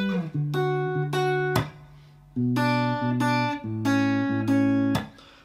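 A guitar picks out the verse of a song, fingerstyle, as three short phrases of ringing, sustained notes separated by brief pauses, clear and close with no talk.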